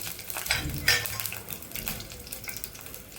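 Garlic sizzles in hot oil in a home kitchen pan while a spicy drumstick curry is being made, a soft steady frying hiss with occasional light clinks of a spoon.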